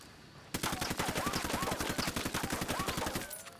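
Rapid automatic rifle fire in the shooter game Ghost Recon Wildlands, a single sustained spray of about three seconds with evenly spaced loud cracks.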